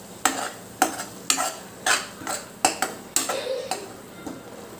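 A spoon stirs a green moong dal curry in a pan with about eight rhythmic, close scraping strokes over a low background sizzle.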